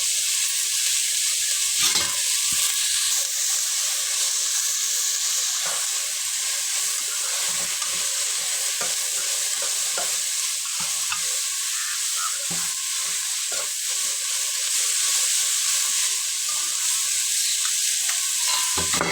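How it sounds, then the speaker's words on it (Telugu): Onions and ginger garlic paste fry in oil for a chicken curry, giving a steady, loud broadband sizzle throughout with occasional stirring scrapes and no voices. "ఆనియన్ ఆనియన్ కొద్దిగా నగ్గిన తర్వాత వన్ స్పూన్ అల్లం వెల్లుల్లి పేస్ట్"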